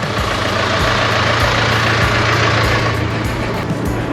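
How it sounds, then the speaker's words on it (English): A tractor engine idles nearby on a farm, a steady low rumble with a constant hum that runs unbroken and fairly loud for the whole stretch, with no voices over it. "let's get back in the tractor and go play with some dogs"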